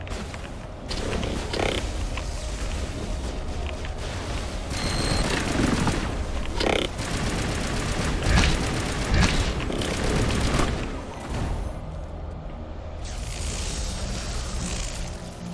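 Rifle fire in the video game Mass Effect Legendary Edition, dense bursts of shots and booms over about fifteen seconds, loud and continuous with brief lulls.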